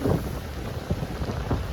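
Steady heavy rain pours down in a continuous dense roar, with dull low rumbles mixed in and no voices.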